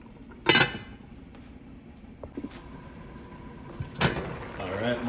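A lid clanks onto a pot of Jamaican stew beef with two sharp metallic clinks a few seconds apart, close and loud over a quiet kitchen background, with a little talk near the end.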